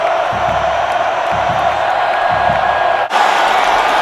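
Football crowd at the AEFL Eastern Conference Championship game roaring after a 50-yard touchdown run: a steady, distant wash of cheering with a brief dropout, then the cheering resumes.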